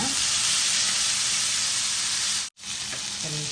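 Prawns sizzling in a pan of butter with garlic, a steady close frying hiss with brief stirring, no talking.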